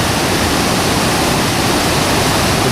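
A North Wales waterfall pours down from the top of a hill, giving a steady, loud, broadband rush of falling water that fills the whole clip without a break.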